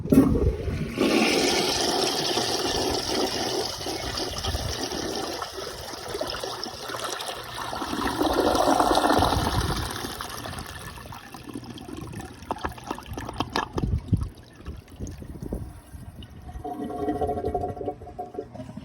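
A Rheem Claymore flushometer toilet flushes a grocery bag with a loud, close rush of water. The surge settles into trickling refill and gurgling as it fades over the following seconds.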